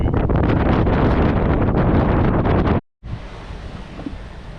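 High wind buffets the microphone outdoors during a DJI drone flight, a loud steady roaring rumble that cuts out briefly, then returns as a softer, steady blowing.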